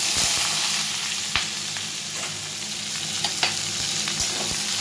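Vegetables drop into hot tempering oil and fry with a loud, continuous sizzle, broken by crackles and pops and a few stirring scrapes, with no talking.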